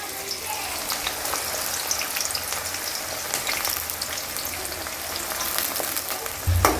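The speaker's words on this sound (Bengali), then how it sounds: "এবার আমি কারি পাতাটা দিয়ে দেবো।" Curry leaves sizzling in a kadai with onion for chira pulao, a close, crackling fry with sharp spatters throughout, ending in a brief low thump.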